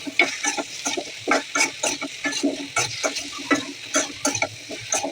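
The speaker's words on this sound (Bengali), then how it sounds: "এখন নেড়ে চেড়ে নেব।" Okra frying in a pan as it is stirred, with close, rhythmic scraping strokes of a spoon against the pan over a light sizzle.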